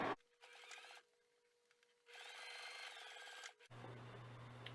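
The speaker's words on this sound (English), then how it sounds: "I just run a top stitch really close to the edge with the sewing machine." A sewing machine runs a top stitch close to the edge of a fabric cast-iron handle cover, in two steady whirring bursts with a pause between, then a noisier handling sound at the end.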